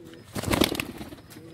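Madrasi pigeon at a high-flying loft in Kolkata giving a brief, soft coo, a single short burst close by against quiet room noise.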